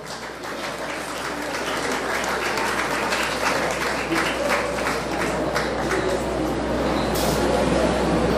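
An audience at the Miss Haiti 2022 grand final applauds a jury member, a loud, dense and continuous wash of clapping that holds steady throughout, with a faint voice briefly audible beneath it.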